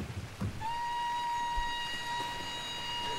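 A train ride in the video game Plants vs Zombies: Battle for Neighborville, with a steady rumbling rail noise and a sustained tonal whistle or horn that begins early and holds to the end.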